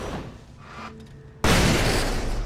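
A flashbang in the Alan Wake video game goes off with a sudden loud, close blast after a quieter stretch, and a dense roaring wash sustains to the end.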